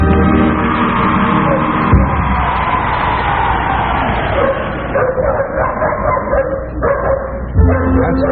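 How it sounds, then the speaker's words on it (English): Trained collies in a 1950s circus act bark and yip repeatedly over a busy, murmuring audience, the barks coming in quick, uneven bursts close at hand. "it's not very easy to train collies to do these things"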